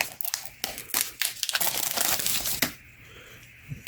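Plastic wrapping being cut and pulled off a new automotive oil filter, with close, busy bursts of crinkling and crackling that end in a quieter tail of soft rustles.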